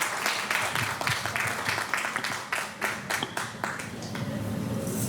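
Congregation applauding at a Sunday church service, a steady crowd clapping that holds evenly at moderate loudness throughout, with no pauses.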